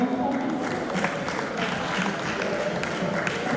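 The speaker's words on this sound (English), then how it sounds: "A round of applause." Applause from the audience at a press week award ceremony, steady, fairly loud clapping from a gathered crowd that carries on without letup.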